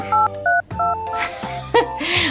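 Cell phone keypad dialing tones, a quick run of short, distinct beeps of differing pitch sounding alone and fairly loud, with a brief burst of other noise near the end.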